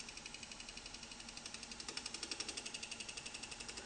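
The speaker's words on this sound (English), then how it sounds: "Switch on the lathe" A wood lathe fitted with a Robert Sorby eccentric chuck runs steadily with a dense high whine and fast rhythmic pulsing that grows slightly stronger partway through, with no talking.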